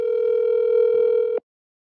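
A single steady telephone tone sounds while a call is placed, holding one pitch for over a second before it cuts off into silence.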